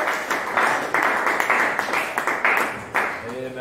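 A church congregation applauds and cheers in praise of God, with dense, steady clapping swelling across the room and voices mixed in.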